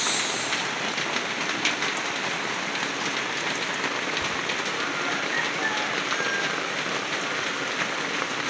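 Heavy rain pours steadily, a dense, loud hiss of drops drumming on surfaces with no break throughout.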